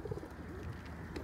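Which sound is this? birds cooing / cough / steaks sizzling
birds cooing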